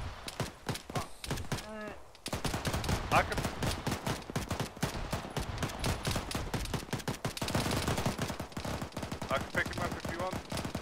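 Heavy automatic gunfire from a big gun in Arma 3 rattles almost nonstop in loud, rapid bursts during a bunker attack, with a short pause early on and scattered faint voices underneath.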